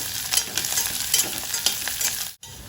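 Onion and curry leaves sauté in a pan with a constant sizzling hiss and regular scraping strokes of a spoon stirring, close and clear, with a brief drop-out near the end.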